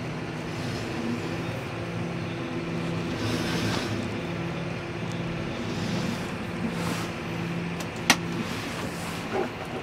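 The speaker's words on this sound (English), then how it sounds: "Let that trailer close itself." A trailer closes itself with a steady, fairly faint mechanical hum that drones on without a break, capped by a single sharp click near the end.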